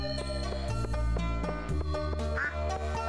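Ducks quack repeatedly over steady looping background music in the farming video game Stardew Valley, the calls coming in a quick uneven series at a moderate level with no talking.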